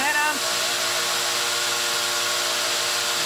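A handheld electric drill driven as a load by a wind turbine on a bench test strains with a loud, steady whine and a dense, continuous buzz.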